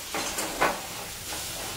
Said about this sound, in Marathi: हा सगळा मसाला आता चांगला भाजून घ्यायचा